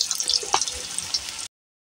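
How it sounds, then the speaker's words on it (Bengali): Pumpkin leaf fritters frying in hot oil, a steady close-up sizzle with crackling pops that runs on evenly and then stops abruptly. "আমি আবারও একইভাবে তেলের মধ্যে দিয়ে দেব বড়া ভাজার জন্য।"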